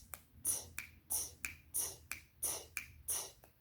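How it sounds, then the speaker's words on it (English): A beatboxing beat played with finger snaps: about ten crisp, sharp snaps land in a steady rhythm with slight accent variation, fairly faint and close, and no one speaks. "If the snapping is your beat."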